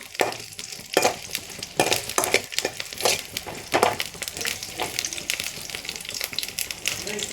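Homemade palak paneer ingredients sauté in a pan over a high flame, a close, busy sizzle broken by repeated stirring scrapes and clatters.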